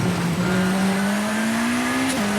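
Rally car engine droning steadily in the video game V-Rally 4, pitch slowly climbing under acceleration with a brief dip at a gear change, loud and continuous with tyre noise beneath.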